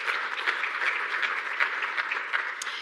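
Steady audience applause at a climate resilience symposium, many hands clapping evenly at moderate loudness for the full stretch with no voices.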